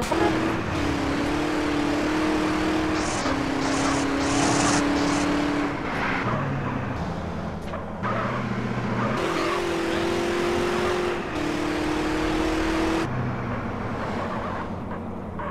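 A car engine drones steadily while driving in the video game GTA San Andreas, its pitch shifting up and down as it shifts through gears, loud and continuous with no talk over it.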